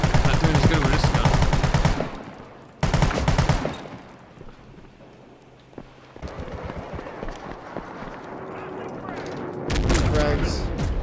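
Bursts of gunfire from a weapon in the video game World War 3, loud and dense at the start, fading into sparse distant shots, then returning heavy at the end, with a voice speaking over the action.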